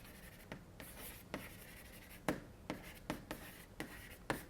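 Writing on a board during a mathematics lecture on the geometry and arithmetic of curves: a series of sharp, close taps and strokes in an uneven rhythm, each a crisp click, with no talking.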